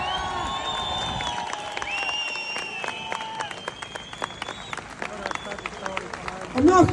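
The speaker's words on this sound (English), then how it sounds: "You all give a big round of applause." Outdoor rally crowd in Dublin, Ireland applauding and cheering, a steady wash of clapping with whistles and scattered shouts, voices mixed in, growing louder at the end.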